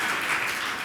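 An audience at a Hindi religious sermon breaks into a short, dense burst of applause, many hands clapping together in a brief continuous wash.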